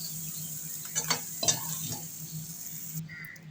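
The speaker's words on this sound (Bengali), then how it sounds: "মাছগুলোকে লবণ হলুদ মাখিয়ে নিয়ে আমি ভেজে নিচ্ছি।" Small fish rubbed with salt and turmeric frying in hot oil in a wok, giving a steady close sizzle with a few scraping stirs and utensil clinks partway through.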